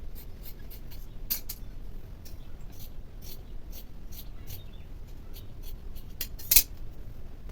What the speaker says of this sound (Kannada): ಇದನ್ನು ಕಟ್ ಮಾಡಿ ಸೆಪ್ರೇಟ್ ಮಾಡ್ಕೊಳ್ಳೋಣ